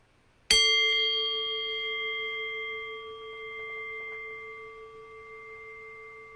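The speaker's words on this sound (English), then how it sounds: "So I'll ring the bell and I'll guide us in." A meditation bell is struck once, giving a clear bright strike followed by a long, steady ringing tone that slowly fades over several seconds, heard alone in a quiet room.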